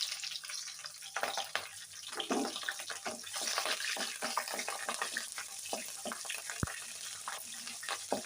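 Green chilies fry in oil in a pan alongside cumin seeds and dried red chilies, giving a steady close sizzle and crackle with scattered pops and stirring scrapes.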